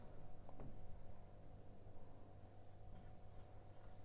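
Writing on a board during a physics lesson on convex lenses and refraction, heard as faint, brief scratchy strokes against a steady low room hum, with no voices.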